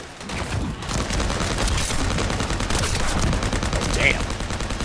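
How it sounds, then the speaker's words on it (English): Rapid, dense gunfire from a hand cannon in a video game, a loud continuous barrage of heavy shots filling the whole stretch with booming, crackling bursts. "Damn, this thing is a hand cannon."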